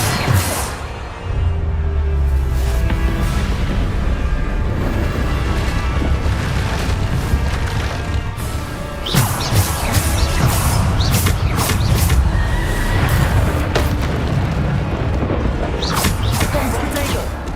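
Repeated Bombarda explosion spells from a wizarding duel video game, booming blasts and crashes recurring through a dense, loud mix with voices talking over much of it.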